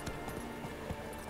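Horse hooves in The Witcher 3 clip-clop in an even, quick rhythm of soft, near thuds over a steady ambient hum, while mountain terrain surrounds the rider.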